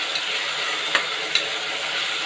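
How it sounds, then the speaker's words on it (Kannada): Onion and tomato frying in oil for tomato bath give a steady, close, broadband sizzle with two brief clinks of stirring near the middle, no voices. "ನೋಡಿ, ಈ ಥರ ಎಣ್ಣೆಯಲ್ಲೇ ಫ್ರೈ ಮಾಡ್ಕೋಬೇಕು."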